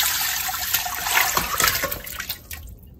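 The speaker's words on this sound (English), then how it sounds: "so now I'm just gonna add it in the pot." Pig tails splash into a pot of water for Jamaican-style stew peas. The brief, close watery rush and sloshing lasts about three seconds and fades at the end, with no talking.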